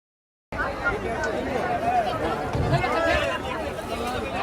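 Crowd of pilgrims bathing at a massive religious gathering, a steady dense hubbub of many voices and splashing movement, close and continuous after a brief silent start.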